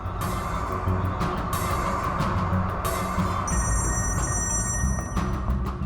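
A telephone rings repeatedly and goes unanswered, its bright, regular trills sounding over a dense, loud background of dramatic music in a TV crime drama scene.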